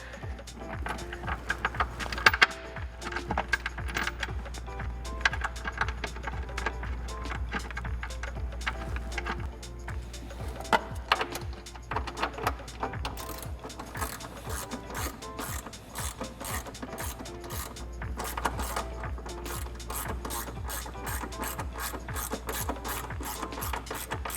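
A hand ratchet clicks in rapid bursts, close by, while tightening a factory 13mm air box bolt on a Ford F-150 engine bay, with short pauses between runs of sharp, dense ticking.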